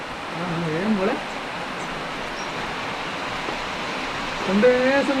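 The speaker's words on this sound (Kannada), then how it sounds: "ಏನು ಮಳೆ" Heavy monsoon rain pours in a steady broadband wash near a dam during a motorcycle ride, with a voice talking briefly over it at the start and again near the end.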